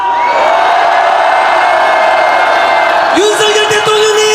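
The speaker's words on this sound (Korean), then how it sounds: "한 번 더 응원하는 함성 한번" Crowd at an outdoor political rally in Gumi cheering and shouting on cue, a loud sustained roar of many voices with whoops, then a single sustained tone cuts in near the end.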